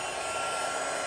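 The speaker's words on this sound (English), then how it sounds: "And now I'm going to get my heat tool, and we are going to melt that." A craft heat tool blows hot air to melt embossing powder on a stamped image, giving a steady, close whirring hiss that runs on its own without a break.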